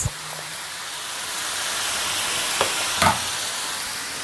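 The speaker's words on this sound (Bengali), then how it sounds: "এই যে ভাজি করতেছি, ফুলকপি আর পাতাকপি আলু দিয়ে ভাজি।" Cauliflower, cabbage and potato fry in a pan with cumin seeds, green chillies and onion, giving a steady broad sizzle throughout with a couple of brief stirring scrapes near the end.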